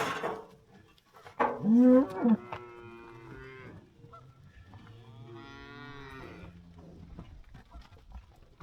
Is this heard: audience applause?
no